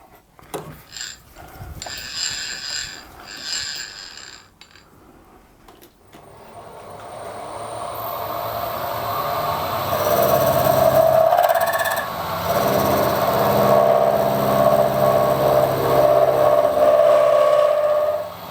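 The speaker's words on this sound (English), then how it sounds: "I'm just going to use a milling machine to square the ends up." A milling machine squares the ends of a tack-welded workpiece for welding. After a few quiet knocks, a steady, loud machining whir with a grinding cutting edge builds and runs continuously to the end, with no voices.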